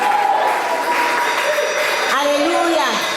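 Church congregation at a Sunday service applauds, a broad crowd clapping that continues throughout while voices and some tonal sound carry over it.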